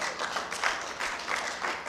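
Applause from nurses at a hybrid nursing conference and awards event: a short, steady wash of clapping at low volume, with no talk over it.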